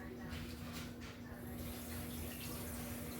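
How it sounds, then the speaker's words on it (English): Hot water runs steadily from a kitchen sink tap, a continuous close hiss and splash that holds through the whole short stretch, with a constant electrical hum underneath. "I'm going to turn on a little bit of hot water in the sink"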